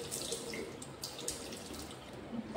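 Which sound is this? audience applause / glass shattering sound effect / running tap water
running tap water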